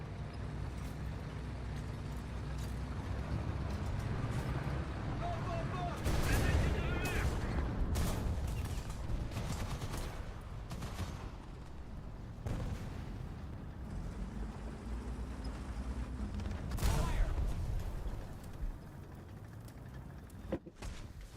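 Gunfire and explosions in the War Thunder combat game, loud bursts and heavy thuds breaking over a constant engine rumble, with a few louder blasts spread through the stretch.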